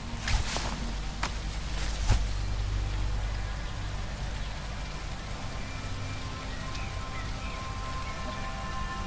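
Steady rain falls in the zombie-survival video game HumanItZ, a dense even hiss with a few sharp taps near the start and no talking.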